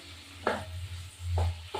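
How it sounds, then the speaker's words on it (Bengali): Onions frying in plenty of oil in a pan, with steady low sizzling broken by a few short scraping stirs of a spatula, close and clear with no talk. "পেঁয়াজ কয়েকটা ভাজা ভাজা হবে"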